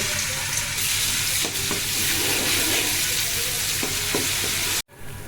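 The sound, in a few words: ginger paste frying in oil in a pan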